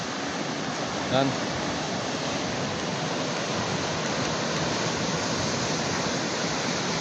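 Rough sea surf builds ahead of a storm on a coast, a dense, continuous roar of breaking waves filling the scene, with a brief voice speaking once over it.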